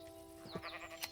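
Sheep bleating in the farming game Hearthside, a few short wavering calls over a steady game-music drone at moderate loudness.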